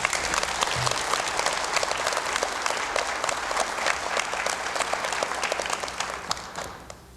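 Audience applauding 5th grade students at the close of a school speech contest, dense continuous clapping from a sizable crowd that tapers off at the end.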